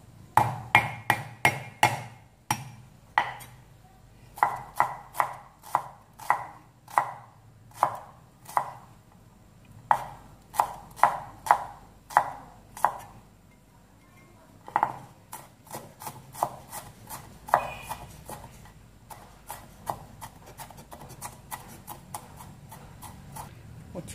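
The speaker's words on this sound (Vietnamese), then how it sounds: "Các bạn băm cho mình củ hành tím này." Shallots being minced with a knife on a cutting board for a Vietnamese snail and green banana stew, making many crisp, rapid chops in uneven bursts with short pauses, close and fairly loud, with no talking.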